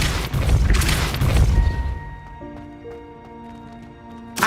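A Depulso spell impact in Hogwarts Legacy: a loud blast with crashing, thudding bursts, then a ringing, sustained magical tone that fades, ending with another short impact.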